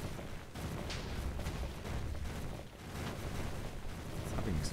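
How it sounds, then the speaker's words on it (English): Explosions from the HBM Nuclear Tech mod in Minecraft, a continuous rumbling barrage of booms with several sharper blasts standing out, loud and sustained. "It's having explosions."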